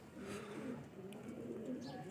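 A pearl-eyed fancy pigeon coos in a low, repeated rolling call, close and fairly soft, with someone talking over it.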